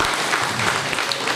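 Brief burst of steady hand-clapping from a seated audience at a teachers' day ceremony honouring the best teachers, dense and even throughout.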